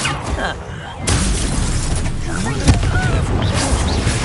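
An explosion spell bursts in Hogwarts Legacy with a loud, dense blast and crackling debris, set in a busy combat mix of effects and voices.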